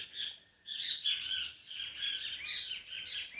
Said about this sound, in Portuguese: Os meus bem-te-vis, aqui voando livre.